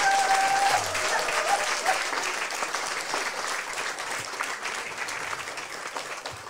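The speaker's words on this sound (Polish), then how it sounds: "Brawa dla nich." Audience applause for pilgrimage organizers at an open prayer meeting for healing and deliverance, a dense, steady wash of clapping from a large crowd, loud at first and then slowly easing, with a brief voice audible at the start.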